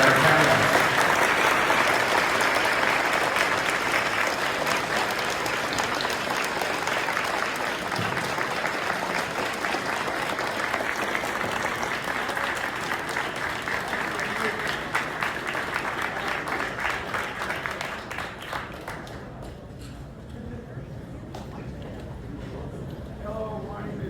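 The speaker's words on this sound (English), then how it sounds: "We can give a round of applause for our panelists." Sustained applause from a conference audience for a panel at a vintage computer festival, steady dense clapping with crowd murmur that thins and fades toward the end.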